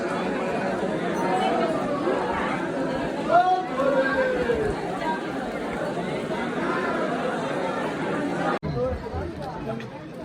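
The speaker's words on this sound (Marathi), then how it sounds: "फारच गर्दी आहे." A dense crowd chatters continuously in a long queue at Bhimashankar temple, a steady hubbub of many overlapping voices close around.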